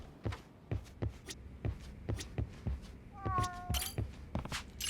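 A cat gives a single clear meow partway through, heard over regular soft thumping footsteps from a game in a detective-adventure setting.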